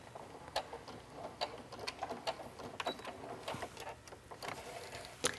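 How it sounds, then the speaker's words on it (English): Domestic sewing machine top stitching along the edges of fabric straps for a lined wetbag backpack, a quiet steady run of rapid needle ticks with brief pauses, close and alone. "this is how we're going to top stitch all of our straps"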